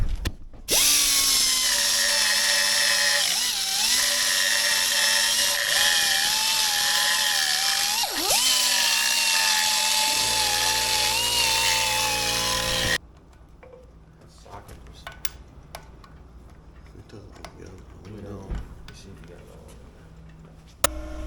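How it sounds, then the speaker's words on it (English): A Dremel rotary tool trims a part during a K24 engine swap into a Miata, giving a loud, high, steady whine whose pitch dips as it bites, then cuts out, with people talking afterward. "I need to trim it up with a Dremel"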